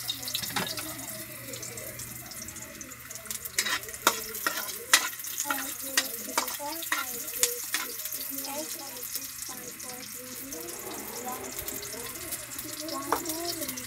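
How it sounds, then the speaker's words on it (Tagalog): Onion and garlic sauté in a pan for a cabbage stir-fry, a continuous crackling sizzle broken by a run of sharp clinks and spatula scrapes, heard close up. "Salang na natin yung sibuyas sa bawang."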